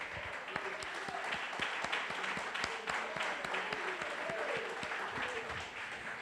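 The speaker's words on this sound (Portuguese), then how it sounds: "Aplauda o Rei." Congregation applauding during a church worship service, a steady dense wash of clapping with soft tonal voices or music under it.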